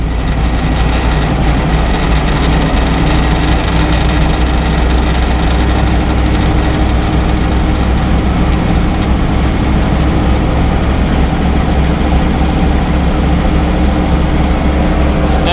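A New Holland 1890 forage chopper runs steadily at sharpening speed, a loud continuous mechanical drone with a low hum and broadband rattle that holds without pause throughout.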